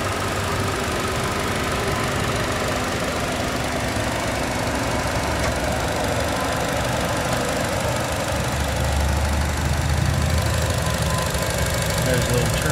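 A 2015 Buick Encore's 1.4 liter EcoTec turbocharged engine idles close by, giving a steady, even hum with a faint mechanical ticking that holds throughout.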